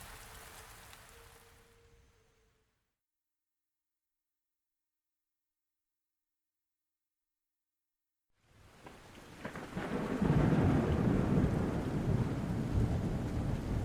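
Steady rainfall with rolling thunder, fading out into near silence before a heavy downpour with deep rumbles swells back in and holds at full strength.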